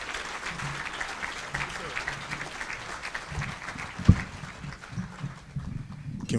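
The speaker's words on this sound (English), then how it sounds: "So a round of applause for Mr." An audience at an annual dinner applauds Mr. Antonio McCoy, moderate clapping from a room of people continuing steadily, with a sharp knock partway through and some voices mixed in.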